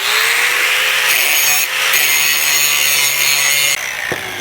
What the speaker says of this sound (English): you certainly take the grinder and clean them up a bit.